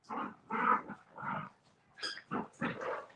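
A 10-week-old puppy whimpers and whines in a string of short, breathy cries with brief gaps, close and fairly quiet, with no talking.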